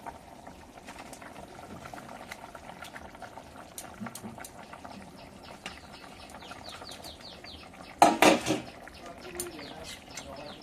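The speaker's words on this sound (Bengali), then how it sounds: "মাছের ঝোলটা ফুটে উঠেছে" Fish curry boils in a pot with a steady close bubbling and simmering, and a short louder burst of splashing and clatter near the end.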